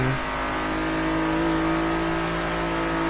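A car engine in the video game Forza Horizon 3 drones at a steady high pitch with whirring harmonics, loud and continuous with no talk.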